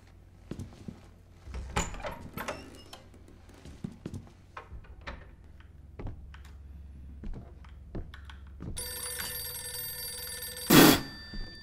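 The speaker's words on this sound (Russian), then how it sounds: "Телефонный звонок." In a horror video game, scattered clicks and thumps give way to an electronic telephone ring near the end, bright and sharp, with a louder final burst.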